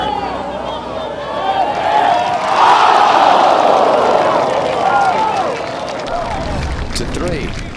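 A golf gallery at the U.S. Open at Merion swells into a loud collective roar and groan as Mickelson's putt runs near the hole, cheering and clapping rising and fading around the green.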